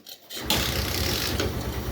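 A motorcycle being started, with a brief mechanical click followed by the engine catching and settling into a steady, close idle rumble.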